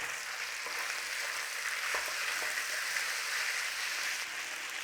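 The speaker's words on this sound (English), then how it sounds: "A nice little bit of caramelization going on there, or a little bit of browning with some crustiness with the flour" Beef with flour browning in a pan for Liverpool scouse, a steady, close frying hiss that holds evenly throughout.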